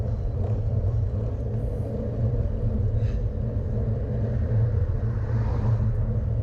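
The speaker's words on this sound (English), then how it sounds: "you notice there's quite a few cars passing along this segment" Steady low rumble of cars passing along a steep road segment during a bicycle hill climb, continuous traffic drone filling the background throughout.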